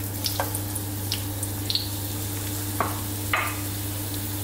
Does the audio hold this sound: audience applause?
no